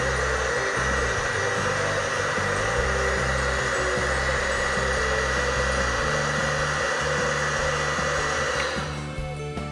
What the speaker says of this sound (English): I dry gold sediment use hot air gun.